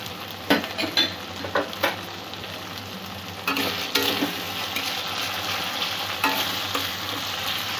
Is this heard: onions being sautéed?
yes